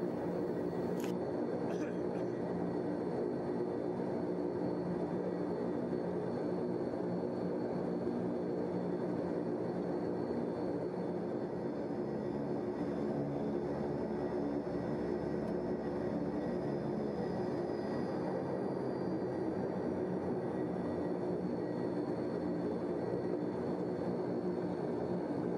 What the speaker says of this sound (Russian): Сейчас будем разворачиваться и струей от винтов надуем его по полной.